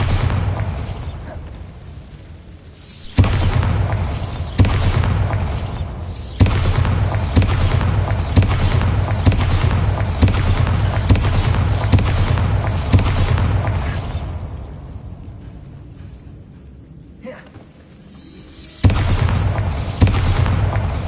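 A Bombarda blast spell in Hogwarts Legacy: a deep boom opens a long, loud burst of rumbling, crackling explosive noise. It dies down briefly, then another heavy blast follows.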